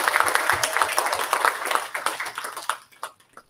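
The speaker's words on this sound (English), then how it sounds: "Can we give a round of applause?" An audience claps in applause at a college gathering, dense and steady for about two and a half seconds before thinning out into a few scattered claps, with some voices mixed in.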